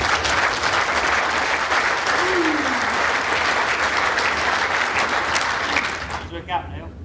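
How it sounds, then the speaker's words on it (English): Audience applause breaks out at an indoor bowls championship match, a dense steady clapping from the crowd that carries loudly for several seconds before thinning out and tailing off near the end. "This one will get a clap."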